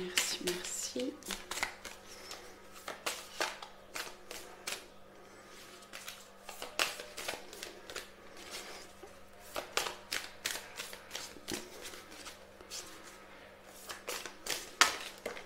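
Cards are shuffled and laid down for a card reading, making a series of crisp riffling flicks and slaps in irregular bursts, close to the microphone, with quiet room noise between them.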